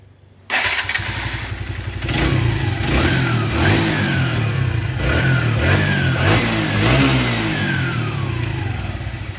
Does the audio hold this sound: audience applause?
no